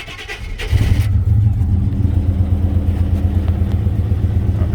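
A severely overheated pickup truck engine with a blown head gasket cranks briefly, then catches and roars to life, settling into a loud, rough rumble close by.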